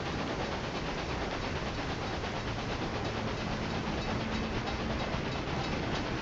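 Train arriving at a station in the Railway Empire 2 strategy game, heard as a dense, steady rumble and hiss of rolling rail noise that stays loud and unbroken throughout.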